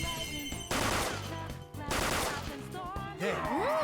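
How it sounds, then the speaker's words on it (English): A special take-you-down shot attack in the video game Persona 5 Royal, sounding as loud bursts of rapid gunfire layered with battle music and whooshing effects across a few seconds. "let's use the special take you down shot"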